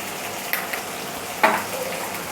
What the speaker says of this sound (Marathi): आता आपण हे सर्व घालून घ्यायचे तेलामध्ये फ्राय करून घ्यायचे